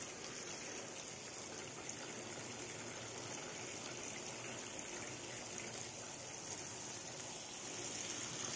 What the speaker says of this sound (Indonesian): Nah itu kita kasih air